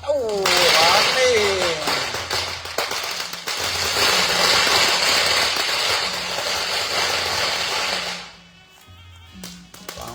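A long string of firecrackers set off at a funeral ceremony in Thailand, a dense loud crackling barrage that runs for about eight seconds and then drops away, with voices and whistling sounds early on.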